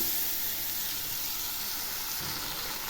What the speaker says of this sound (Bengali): এগুলিও খুব ভালো করে ভেজে নেব